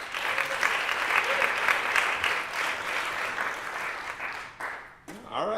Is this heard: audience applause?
yes